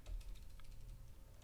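Quiet, rapid tapping of keys on a computer keyboard, an irregular patter of clicks, faint and close with no talking.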